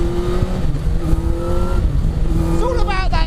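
A Yamaha R1-engined Mazda MX5 kit car with a sequential gearbox powers out of a corner, its engine note rising in steady harmonic tones and then climbing sharply in pitch near the end, loud and close under faint talk.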